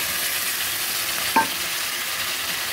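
Mutton frying with onions in a pan for curry, about a kilo of meat, gives a steady loud sizzle. A single sharp clink of the utensil cuts through midway, and no one talks.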